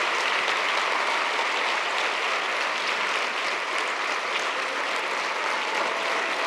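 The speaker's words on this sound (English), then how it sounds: "A standing ovation for them, please." Standing ovation from a large conference audience for the Global Teacher Prize finalists, a dense, steady wall of clapping that carries on unbroken throughout at a moderate level.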